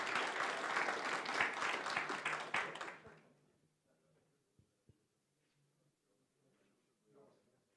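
Applause from the audience at an awards gala for a municipal ranking, loud and dense for about three seconds, then quickly fading into near silence with a few faint scattered sounds.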